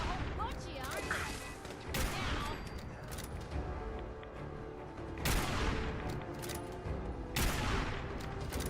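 Gunfire in the Fallout 4 video game comes as repeated sharp bursts of shots, with heavier volleys roughly every two to three seconds over a busy background of game sounds.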